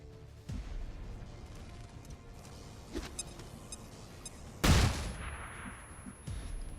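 A flashbang goes off in XCOM 2 amid scattered gunfire, producing one sharp, loud burst followed by a hissing decay, with fainter shots and thumps before and after.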